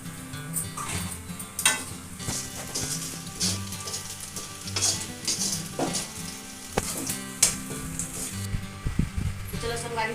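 Onion, garlic and chilli masala fries in a pan for a fish curry, with a steady sizzle, scraping stirs and occasional clinks of a utensil against the pan, under some talking.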